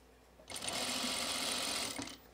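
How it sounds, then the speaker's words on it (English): A sewing machine runs in one continuous burst of about a second and a half while understitching a facing on a blouse, a loud, even whir that starts and stops abruptly. "Right now I'm just understitching it."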